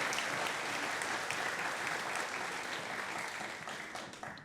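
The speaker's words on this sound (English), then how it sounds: "Let's give them another round of applause." A concert band audience claps steadily in a sustained round of applause that fades slightly toward the end, with no voices over it.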